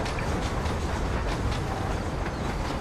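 A train rumbles steadily past in Red Dead Redemption, a dense, loud roar of rolling wheels and rattling cars with faint clickety-clack, continuous with no talking.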